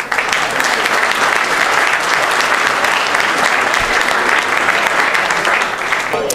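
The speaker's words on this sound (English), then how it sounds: "Big round of applause for our" Applause from a crowded audience at an Israeli business conference, a loud, dense, continuous wash of clapping that holds steady throughout.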